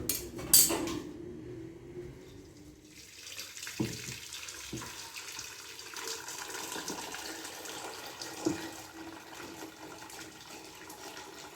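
Water drains off half-cooked rice for mutton biryani. A splashing, running pour starts strongly, then trickles and gurgles steadily, with a few clinks of pots.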